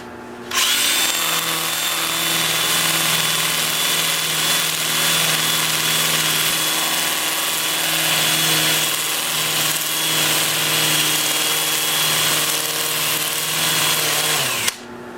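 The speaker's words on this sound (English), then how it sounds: "I'm going to start the sanding with my Sando Flex 180 grit, and I'm going to sand all the bark." A steady, loud power-tool whine runs without a break for about fourteen seconds as bark-covered wood is sanded with 180-grit on a spinning lathe, then it winds down.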